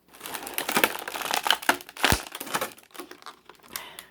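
Plastic bands come off a packaged Teenage Mutant Ninja Turtles Last Ronin Leonardo action figure, with close crinkling, snapping and rustling of plastic in quick irregular bursts.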